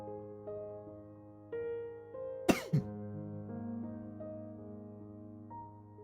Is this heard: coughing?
yes